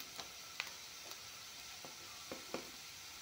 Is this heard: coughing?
no